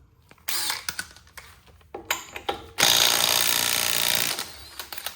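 A Snap-on CT861AM or T761A cordless impact wrench loosens a lug nut, firing in a few short bursts before a loud sustained hammering run of about two seconds, close to the microphone.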